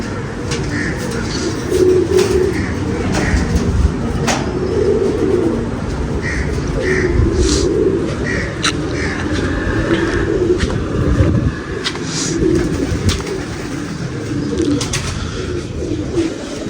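Pigeons coo repeatedly in low, soft, throaty phrases at a kabootar bazi pigeon-flying show, with other birds chirping faintly and occasional clicks over a steady outdoor background hum.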